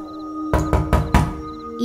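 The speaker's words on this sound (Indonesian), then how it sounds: "ada yang mengetuk pintu kamarku." Four heavy knocks land on a wooden bedroom door in a quick, uneven series, loud and close, set against a quiet indoor background with a faint steady hum.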